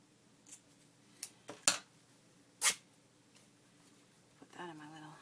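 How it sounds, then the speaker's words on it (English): Fabric scissors cutting cotton fabric, giving a few sharp separate snips and crunches spaced over several seconds, the loudest near the middle, with soft rustling and a brief voice at the end. "I'm going to use my fabric scissors"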